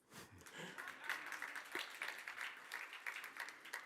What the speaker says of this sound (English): Feel free to clap at any time.